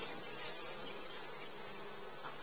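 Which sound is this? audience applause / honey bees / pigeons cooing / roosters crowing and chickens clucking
honey bees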